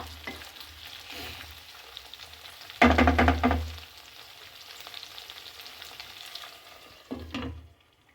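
Brinjal curry cooking in a pan on a low flame, a soft steady sizzle with two louder bursts of stirring and scraping in the pan, close by and with no voices.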